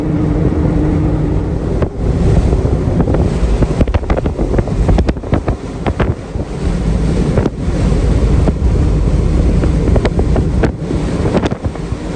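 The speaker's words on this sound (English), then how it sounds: "What a windy day." Strong wind buffets the microphone outdoors near Moab on a blustery day, a loud continuous roar with sharp gust thumps and crackles throughout, no voices.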